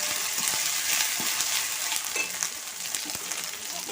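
Carrots and beans sizzle and fry in a pan for pasta, a steady crackling hiss with occasional spoon scrapes and knocks, close and continuous with no talking.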